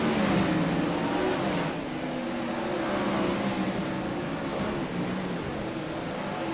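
Sprint cars racing on the dirt oval at Eldora Speedway in a B-Main heat, a steady loud engine roar holding throughout with no clear passes or gaps.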